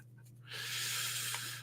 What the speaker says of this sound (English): Just giving the cards a nice, thorough shuffling